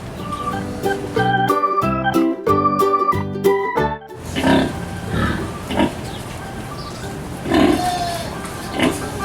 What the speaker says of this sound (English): Mother pig and newborn babies.